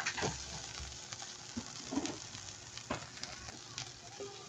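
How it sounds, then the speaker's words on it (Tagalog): Vinegar, soy sauce and pepper bubble and sizzle steadily in a pan at low volume, with occasional soft clinks and pops over the constant simmer. "Kumukulo na yung ating suka, toyo, at paminta."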